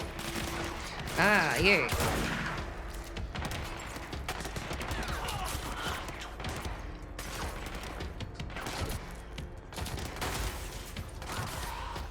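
Gunfire crackles through a combat scene in the video game Control in sustained, dense bursts with a few heavier blasts. A voice speaks briefly over the firing.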